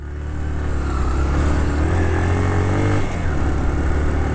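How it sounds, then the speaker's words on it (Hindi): A motorcycle engine revs steadily and loudly as it climbs a steep mountain road on the Skardu Road in Pakistan, with a continuous low drone alongside the engine throughout. "ना ना मोटरसाइकिल तो गुजर जाएगी"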